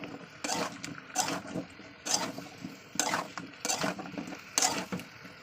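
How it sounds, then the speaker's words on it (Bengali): Malabar spinach stems are sautéed in a pan, a low sizzle under repeated scraping stirs of a spatula against the metal, coming in rhythmic bursts about once a second. "দিয়ে দিচ্ছি পুঁই শাকের ডাঁটা। চলুন দিয়ে ভালো কষে নিই একটু।"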